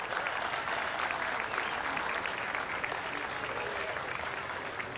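An audience at a Fourth of July patriotic program claps continuously for a concert band, a dense steady wash of applause from many hands that carries on throughout.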